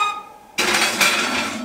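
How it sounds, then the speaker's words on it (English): A pizza stone going into an oven: after a quiet moment, a sudden metallic clatter and scrape from the rack and stone, then a sustained rattle that stays close and fairly loud. "I'm going to slide the pizza stone into the oven"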